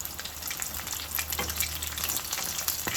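Breakfast food frying in a pan gives a continuous close crackling sizzle with occasional stirring, and no talk over it.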